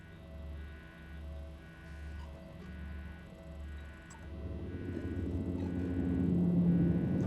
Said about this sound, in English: That's a helicopter coming and landing on the roof of my apartment.